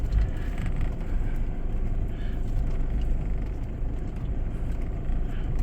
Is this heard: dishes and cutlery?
no